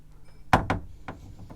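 A yacht cabin door near a washer dryer swings fully open and shuts with a magnetic catch, giving a sharp close thunk followed by a few softer knocks and bumps, clear in a quiet interior.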